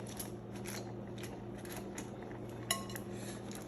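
A lid set over a pot of steamed moimoi in aluminum foil: faint handling clinks with one brief sharp metallic clack, against a steady low hum.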